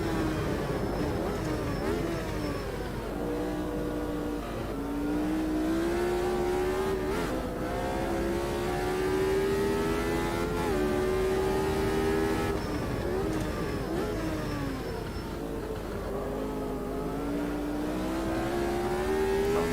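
Formula Retro race car engine lapping Bathurst in Automobilista 2, a loud, continuous high-revving whine that climbs and drops through gear changes as the car accelerates and brakes around the circuit, with no talk over it.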